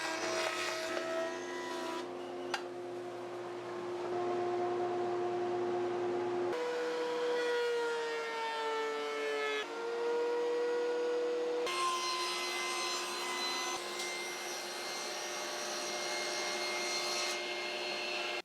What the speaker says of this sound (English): so I need to finish the cut off with a jigsaw.